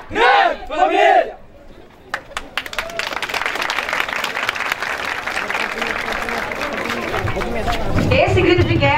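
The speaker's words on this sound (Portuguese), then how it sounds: "Esse grito de guerra merece um aplauso maior" A team crowd shouts its call-and-response battle cry: a loud chanted voice opens, then the group erupts into cheering and clapping that swells and stays loud to the end.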